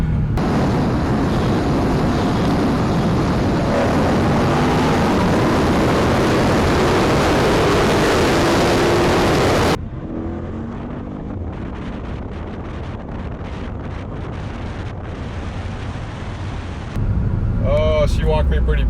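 A Dodge Challenger Scat Pack and a Subaru WRX STI in a roll race: loud wind-buffeted engine and road roar under hard acceleration, then a sudden drop to quieter cabin rumble with some talking and a final surge.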